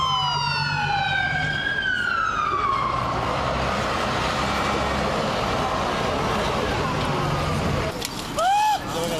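An emergency siren wails loudly with a falling, sweeping pitch over heavy traffic rumble, then gives a few short yelping chirps near the end.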